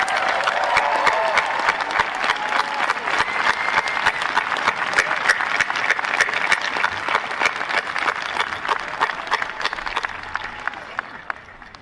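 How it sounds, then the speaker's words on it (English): Raucous applause from a large graduation ceremony audience, a dense, loud, steady wash of clapping that holds for about twelve seconds and only slightly fades toward the end, with faint crowd voices mixed in. "can we have one more really raucous round of applause for these amazing people?"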